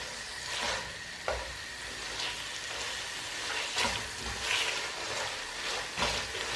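Spinach ball curry masala frying and being stirred in a pan, a steady close sizzle with repeated scraping strokes of the spoon over the top.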